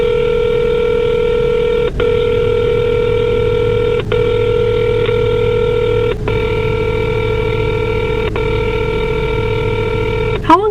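Touch-tone keypad presses on a house phone, steady sustained dual tones broken by short gaps every two seconds, closing with a brief chirp.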